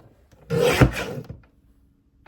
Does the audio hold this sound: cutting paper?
yes